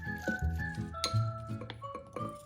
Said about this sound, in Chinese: 将浸泡了1小时后的辣椒干沥干水分， 也一起加入，一起搅拌。